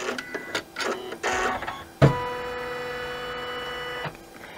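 A machine embroidery hoop stitches a zippered coin purse, starting with a few stop-start bursts before settling into a steady, close whirring run of rapid needle strokes that cuts off after about two seconds.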